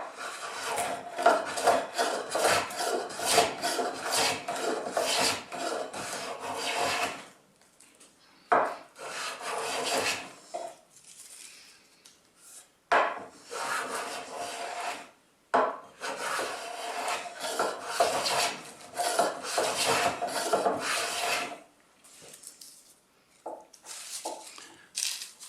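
A Veritas No. 1 hand plane takes repeated shavings from a board at close range, each rasping stroke running several seconds, separated by brief quiet pauses.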